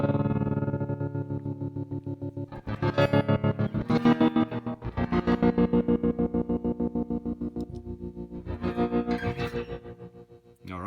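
A distorted electric guitar through an Electro-Harmonix Oceans 11 reverb pedal's tremolo mode plays chords with rapid, pulsing volume wobble, the tremolo chopping each sustained note into quick throbs.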